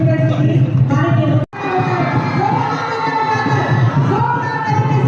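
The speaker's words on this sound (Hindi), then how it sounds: "लगातार तालियां होती रही" An audience at a chief minister's political event in Hazaribagh makes a loud, continuous crowd roar of clapping and cheering, with a brief dip partway through before the noise swells back.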